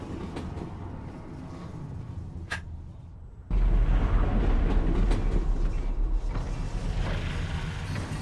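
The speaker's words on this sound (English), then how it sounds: "Hey, ooh, I'm on the train." A train riding on rails in the VR game Half-Life: Alyx, a quieter mechanical rattle that jumps abruptly into a loud, continuous rumbling roll with creaks and clatter.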